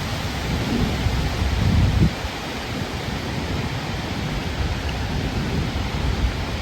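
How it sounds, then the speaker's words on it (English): Thunderstorm in New Jersey with gusty winds: steady, loud rain and wind roar throughout, with a deep thunder rumble swelling near the start and no voices. "This is the best lightning show ever"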